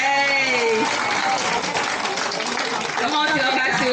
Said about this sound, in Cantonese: 俾掌聲自己